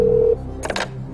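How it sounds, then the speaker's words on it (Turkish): On the TV quiz show Who Wants to Be a Millionaire, a telephone rings during a phone-a-friend call. One short, clear electronic ring tone sounds, followed by a faint brief rustle. "Evet, çalıyor telefon."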